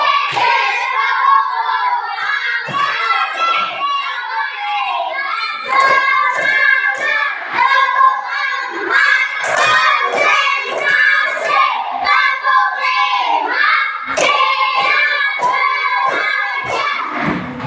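Schoolchildren in a classroom clap together in a steady, loud rhythm on a teacher's cue, with children's voices and shouts mixed in throughout.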